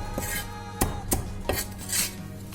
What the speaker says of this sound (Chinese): 把尖椒切成块儿， 洋葱也切成块儿